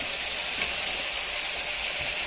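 Sliced potatoes with a little onion fry in a pan, giving a dense, even sizzle that holds steady throughout with one brief clink, no talking.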